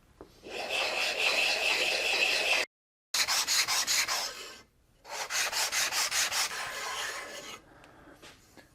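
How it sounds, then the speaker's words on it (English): Hand sanding of a wooden mitered box to bring the joints flush, a steady close rasping scrape in long bursts with brief pauses, the last stretch in quicker rhythmic strokes that trail off into softer rubbing. "I'm sanding it flush"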